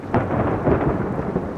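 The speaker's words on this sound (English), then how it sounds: "the thunder" Thunder from a sound library pack, a short, deep rumbling roll heard close and alone, with a low booming swell that lingers under a wash of rain-like noise.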